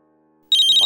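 A phone ringtone starts suddenly after a short quiet lead-in: a loud, close, bright electronic chime that rings without pause to the end.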